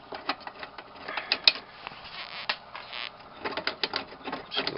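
Plastic-handled thumb screws being turned out of an old kerosene heater that sat unused for 20 years, with a run of small clicks, creaks and ratcheting scrapes close by and no talking.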